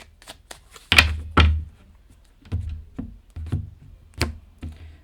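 Tarot cards shuffled and tapped during a reading, giving close, dry riffles and soft thumps in irregular clusters separated by quiet gaps.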